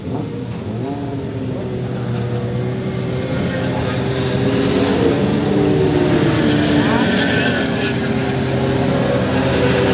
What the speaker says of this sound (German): Alvaro Bautista, der aktuelle Weltmeister hier, gerade vom freien Training reingekommen